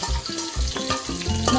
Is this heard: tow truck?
no